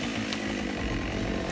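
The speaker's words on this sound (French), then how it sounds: "Les ouvriers forestiers travaillent avec des tronçonneuses toujours plus performantes." Chainsaw running steadily during forestry work, a loud continuous buzzing engine drone held at even pitch throughout, close by, with no voices.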